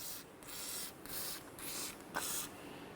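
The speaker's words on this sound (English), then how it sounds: "spray down the rotor with some penetrant to help relieve it from the wheel bearing" Penetrant sprayed from an aerosol can onto a front brake rotor of a 2004-2010 Chevrolet Cobalt, several short hissing bursts separated by brief pauses, close and fairly quiet.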